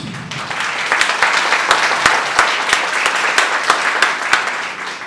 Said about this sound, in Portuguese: Nós vamos aplaudir o padre, queridos.